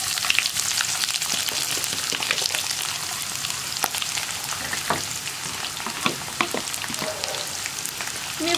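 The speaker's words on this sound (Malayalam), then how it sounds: "ഇനി നമുക്കിതിലേക്ക് നമ്മൾ തിന്നായിട്ട് കട്ട് ചെയ്ത് വെച്ചിരിക്കുന്ന സവോള ചേർക്കാം" Thinly sliced onions fry in hot oil for a potato and green gram curry, a loud, dense crackling sizzle with bright pops and spatters throughout, close up and without talk.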